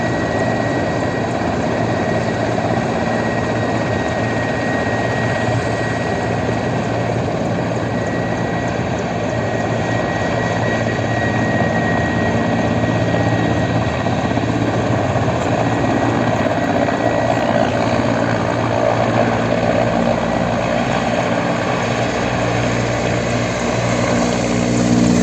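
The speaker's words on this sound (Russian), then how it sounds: "сейчас вы наблюдаете отвлекающие действия спецподразделения ГКМБ с подрывом дымовых шашек и десантированием вертолета бойцов спецподразделения" A helicopter hovers and flies nearby during a special forces drill with smoke grenades and troops landing near residential buildings, its loud, continuous rotor and engine roar filling the whole stretch without pause.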